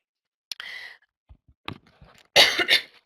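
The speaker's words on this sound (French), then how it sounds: "Je vais essayer de ne pas trop tousser là" A few short coughs and a throat-clearing sound, close by, separated by quiet pauses, ending with a stronger double cough.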